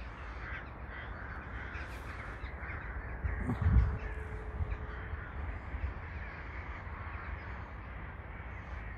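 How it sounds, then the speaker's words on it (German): A large flock of crows gathering over allotment gardens, many cawing calls layered across a steady outdoor murmur, with a louder burst of caws near the middle and no one talking. "Das ist kein Mückenschwarm, das ist ein Vogelschwarm."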